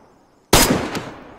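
A single sharp, loud gunshot in DayZ, heard in first person, cracks out of near silence and decays with a lingering echo as a fainter second report follows moments later.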